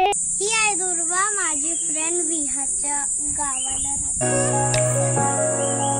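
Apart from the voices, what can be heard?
crickets chirping during the daytime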